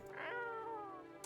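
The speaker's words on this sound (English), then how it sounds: "Reach out, pet the cat." A cat meows once in a video game, a long, clear, drawn-out call that rises and then slowly falls, close and fairly loud, with no talking over it.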